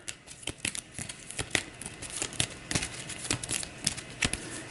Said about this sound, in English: Alright, so we'll give these a shuffle.